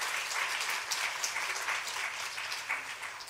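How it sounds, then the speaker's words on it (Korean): Steady, enthusiastic applause from a crowd, dense clapping throughout without any talking. "박수를 한번 뜨겁게 한번 환영할까요?"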